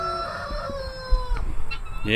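A rooster crows and clucks nearby, with other fowl sounds and brief bits of voice in the background.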